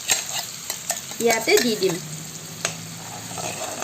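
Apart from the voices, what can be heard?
stirring palak chicken in a pan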